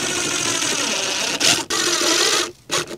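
A power driver sinks 1-inch screws while a fixture is installed, a continuous buzzing motor whine that stops briefly twice and restarts, close and fairly loud.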